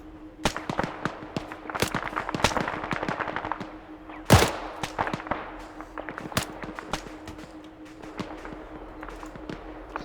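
Rapid HK rifle fire in ArmA: sharp, irregular shots crackle through the whole stretch over a steady background hum, with one louder, heavier blast standing out near the middle.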